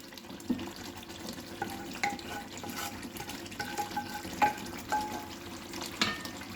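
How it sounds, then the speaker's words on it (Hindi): Second gravy poured and stirred into Patiala chicken masala frying in a pan, a soft steady sizzle with wet scraping and occasional clinks of the spoon against the pan, fairly quiet and close. "अब इसमें हम सेकेंड ग्रेवी को डाल देंगे।"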